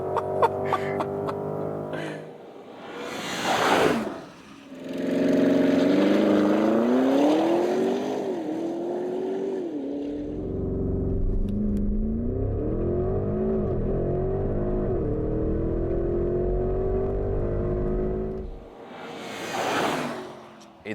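A Porsche Cayenne Turbo GT engine roars and revs on a racetrack, rising and falling in loud sustained pulls with gear changes, close and dominant, with brief gaps between.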